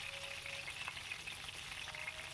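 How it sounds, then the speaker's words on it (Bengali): Small whole fish (young rohu-type carp) frying in hot oil in a kadai, a steady dense crackling sizzle that holds at even loudness throughout, close and with no voices. "সব কটা মাছ আমি একভাবে ভেজে তুলে রেখে দিচ্ছি"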